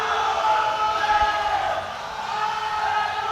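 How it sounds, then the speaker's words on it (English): A powerlifting crowd cheers as a lifter steps onto the platform at a world classic championship, with a sustained roar of many voices that softens slightly partway through. "The crowd receives him as soon as he steps onto the platform"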